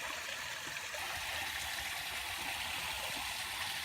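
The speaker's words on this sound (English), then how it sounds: "Got a great little waterfall happening." A small waterfall and running water in the bush after a day of heavy rain rush steadily, a dense, even roar of flowing water close by with no talk over it.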